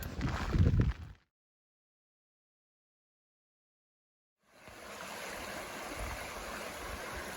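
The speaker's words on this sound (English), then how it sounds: "this is here by a bridge here, and this is a brook where I just got some water." A brook flows beside a bridge on the Appalachian Trail in Vermont, a steady close wash of running water that starts after a brief silence and continues evenly to the end.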